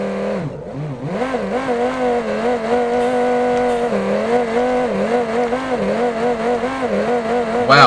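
A twin turbo Corvette kart engine in BeamNG.drive screams at high, steady revs with slight wavering pitch, loud and close, holding near the limiter for the whole stretch with no talk.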